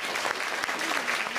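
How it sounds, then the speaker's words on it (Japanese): Dense, steady applause from a theater audience at the Turtle Talk show in Tokyo DisneySea, a continuous wash of many hands clapping close by, with no break. "みんな彼女に応援の拍手しようぜ。"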